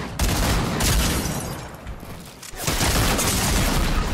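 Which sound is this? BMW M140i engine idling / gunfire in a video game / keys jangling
gunfire in a video game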